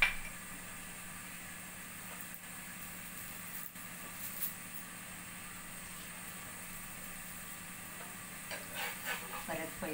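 Ghee sizzling in a pan around a sprouted moong paratha as it fries, a steady soft hiss running throughout with a few brief crackles near the end.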